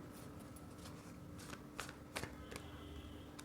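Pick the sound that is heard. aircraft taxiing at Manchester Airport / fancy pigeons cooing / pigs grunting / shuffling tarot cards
shuffling tarot cards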